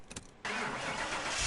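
A virtual V12 engine in Car Mechanic Simulator cranks briefly, then catches and settles into a loud, steady running roar on the dyno, with no talk.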